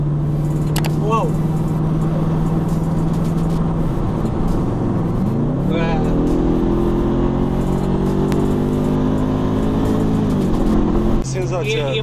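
BMW 650i E63 with a V8 engine revving hard under acceleration, a loud, rising engine note with gear shifts heard from inside the car, with people talking over it.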